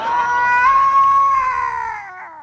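A cat lets out a single drawn-out meow, high and wavering, close and clear, tailing off at the end.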